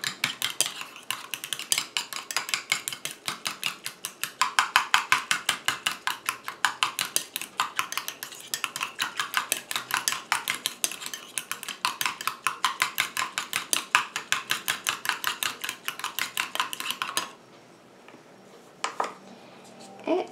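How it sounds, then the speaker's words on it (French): A utensil stirring a rose and orchid face mist mixture sets up rapid, regular clinks and scrapes against the container, close and continuous, then stops abruptly near the end, leaving a few faint knocks. "Je mélange."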